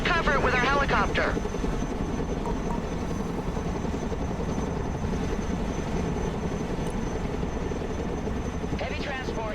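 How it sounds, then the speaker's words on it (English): Cargo helicopter in the video game Broken Arrow, its rotor and engine roar filling the whole stretch as a steady loud drone, with brief speech-like radio chatter at the start and end. "Let's go and recover it with our helicopter."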